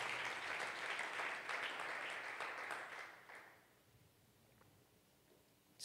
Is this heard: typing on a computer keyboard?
no